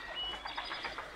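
Pigeons coo softly in a quiet, faint run of repeated warbling calls, close by and unaccompanied by any talk.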